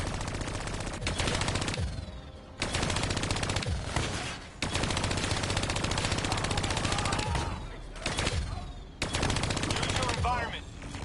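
Sustained automatic gunfire from hijacked turrets in a Call of Duty game, loud dense bursts of rapid shots running most of the clip with brief pauses, mixed with game effects and voices.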